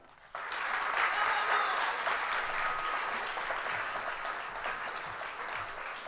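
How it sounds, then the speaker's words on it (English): At a school graduation ceremony for the class of 2022, a large audience breaks into continuous clapping that starts abruptly and holds at an even, moderately loud level for several seconds. "please keep clapping"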